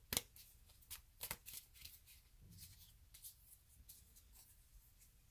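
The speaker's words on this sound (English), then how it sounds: "these cards are hard to shuffle sometimes" A deck of tarot cards being shuffled by hand, with several sharp papery riffles and slaps in irregular bursts, close and quiet, separated by softer rustling.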